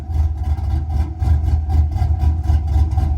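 A truck engine fitted with a mild cam and tuned with HP Tuners idles loud and close, its low rumble pulsing in an uneven, choppy rhythm with no voices over it.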